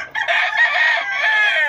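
A fighting rooster at a cockfighting arena crows loudly and close, one long drawn-out call filling the whole moment.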